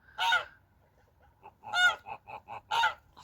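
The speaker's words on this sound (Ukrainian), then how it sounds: "А гуси також собі стоять, пір'ячко чистять." Geese honk in a farmyard, three loud nasal calls spaced apart with a run of shorter, softer honks between them, fairly close and with no voices.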